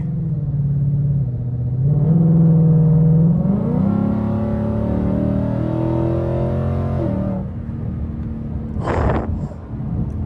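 A car on E85 fuel accelerates hard, its engine rising steadily in pitch through the gears, loud and close, with a brief rushing burst near the end.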